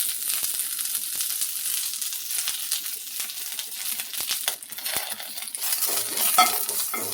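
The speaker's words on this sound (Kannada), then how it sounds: "ಲೋ ಫ್ಲೇಮಲ್ಲೇ ನಿಧಾನವಾಗಿ ಹುರ್ಕೊಳ್ಬೇಕು." Drumstick leaves fry in a little oil in a pan over a low flame, giving a steady, fairly quiet sizzle broken by scattered clinks and scrapes of stirring, with no talking.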